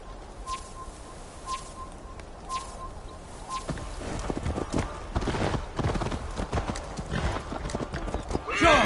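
A horse's hooves clip-clop in a steady rhythm in Assassin's Creed Valhalla, joined by a whinny and birdsong, the galloping growing louder and busier toward the end.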